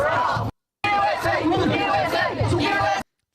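Protest crowd chatter, a dense babble of many voices with shouts rising out of it, loud and close, broken by a brief silent gap.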